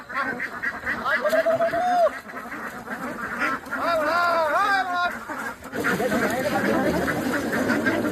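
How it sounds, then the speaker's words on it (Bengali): Trained ducks quack in several bursts of nasal calls over about eight seconds, moderately close, with a person's voice and background chatter mixed in. "দেখ হাঁসগুলো দেখ, ট্রেনিংটা দেখ, ডাকা মতো চলে এলো।"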